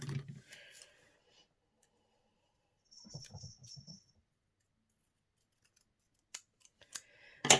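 Scissors cutting a sticker sheet in half, several short crisp snips at the start and middle and again near the end, separated by quiet pauses, nearby and fairly soft.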